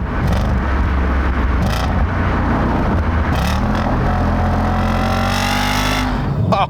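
A 2011 Audi S5 coupe's 4.2L V8 with a manual gearbox revs up through a series of downshifts, its engine note rising and falling in several loud sweeps, close and alone.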